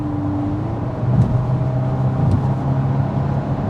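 A Volkswagen Golf 8 R with 320 hp, set to sport mode, runs with a steady low engine drone that swells slightly as it revs, heard close and continuous without talk.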